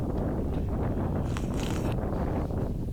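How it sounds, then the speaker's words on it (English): Strong wind blows across a cold, snowy campsite as a steady low roar and buffeting against the microphone, with a brief brighter rustle midway and no speech. "The wind is picking up"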